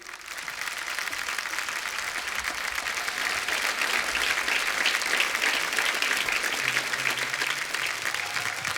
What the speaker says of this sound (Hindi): एक बार जोरदार तालियां हो जाए हमारे सारे कलाकारों के लिए।